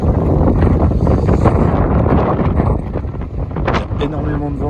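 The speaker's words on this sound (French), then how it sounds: "Il y a énormément de vent" Strong wind buffeting a microphone at an electric car charging stop while on the road in Spain, a loud continuous roar with gusty rumbling, a voice speaking faintly underneath.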